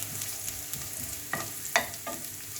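Garlic sizzles in a hot pan while being stirred, a continuous frying hiss broken by several scraping stir strokes at uneven intervals, close and moderately loud with no talking.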